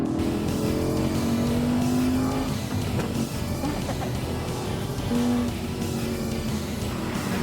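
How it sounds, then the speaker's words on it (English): Audi S4 lapping a track in Forza 3, a continuous loud engine drone rising and falling with gear changes and revs, with no talk over it. "I'm doing my lap in this very stylish Audi S4."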